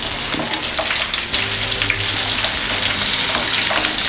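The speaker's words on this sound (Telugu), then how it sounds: "మిర్చీలు రెండో వైపు కూడా వేగాయి కదా, మధ్య మధ్యలో ఇవి కలుపుకుంటూ ఉండాలి." Stuffed chilli bajji frying in hot oil while being stirred, a loud continuous close bubbling sizzle with occasional soft clinks and scrapes of the spoon.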